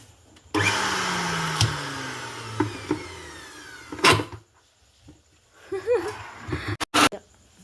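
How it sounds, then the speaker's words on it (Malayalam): Electric mixer grinder blending a muskmelon shake at home, a loud whirring run of about three and a half seconds that winds down, followed by knocks, clatter and brief voices. "ഉണ്ണിക്കുട്ടന് മിക്സി അടി വന്നിട്ടുണ്ട് ഗൈസ്"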